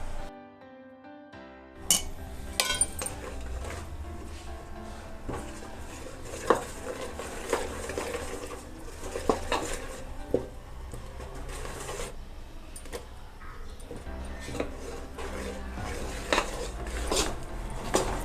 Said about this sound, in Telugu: బియ్యం పిండి వేసుకుంటూ కలుపుతూ ఉండాలి